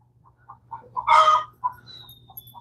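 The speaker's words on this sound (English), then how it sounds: "These chickens are being noisy." Homestead chickens clucking nearby, scattered short calls with one louder, drawn-out squawk in the middle, over a low background hum.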